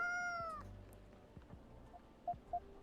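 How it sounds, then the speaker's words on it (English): A cat meows in the video game Coffee Talk: a long, loud meow at the start, then two short, softer mews further on, with faint background music and no talking. "Cats."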